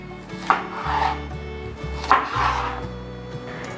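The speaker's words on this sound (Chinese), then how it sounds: "准备1颗红甜椒，蒂头和膜用手剥掉， 切成粗条状。" A knife chops a red bell pepper into thick strips on a wooden cutting board, with two sets of firm, close thuds followed by scraping, alone without speech.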